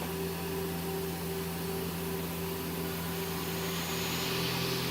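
A 2011 Mazak QTN250 II CNC lathe spindle spins at 2,500 RPM, giving a steady, even mechanical hum with a constant tonal whine and a broad airy hiss, close and unbroken.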